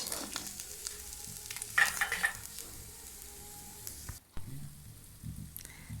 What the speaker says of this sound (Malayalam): അങ്ങനെ മീൻ ഫ്രൈ ചെയ്യലൊക്കെ കഴിഞ്ഞു